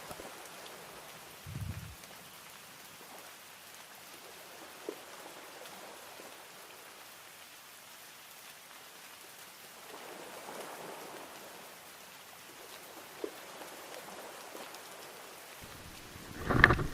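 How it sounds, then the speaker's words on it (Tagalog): Steady, soft rain patters on a surface throughout, with a few louder thumps near the start and end. "Ayan na yung ulan."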